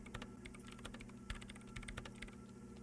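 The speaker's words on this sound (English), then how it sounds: "Her hands typing hundreds of commands into the machine." Rapid, uneven clicking of keys as commands are typed on a keyboard in the Disco Elysium video game, a quiet steady patter over a low background hum, with no talk.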